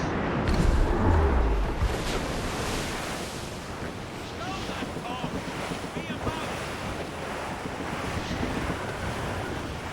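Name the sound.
vicious wind in Assassin's Creed Rogue video game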